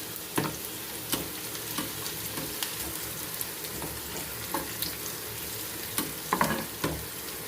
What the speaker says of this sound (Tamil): நல்லா வெங்காயம் பொன்னிறமாக நல்லா வதங்கட்டும்.